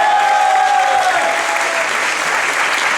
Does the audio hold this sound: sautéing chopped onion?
no